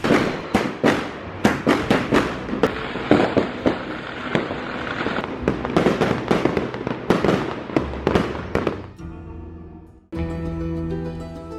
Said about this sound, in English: the family stayed awake until midnight and shot off fireworks in front of the home.